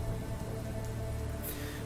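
Steady rain falling on the ground outside an inn's outbuilding, a constant dense patter with a low rumbling hum underneath, close and even throughout.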